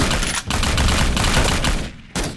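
Sustained gunfire from a firefight in the war video game 7554, a dense fusillade of overlapping rifle and machine-gun bursts that fills the whole stretch, loud and continuous with a brief dip midway and near the end.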